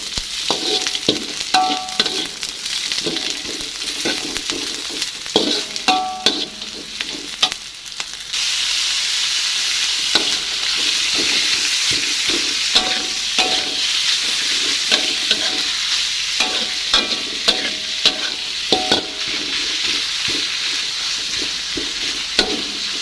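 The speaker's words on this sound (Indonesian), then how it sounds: "Aduk-aduk kembali." Green beans, ground meat and chili stir-fry in a pan with a continuous crackling sizzle, punctuated by repeated clattering strokes of the spatula; the hiss grows fuller partway through, with no voices.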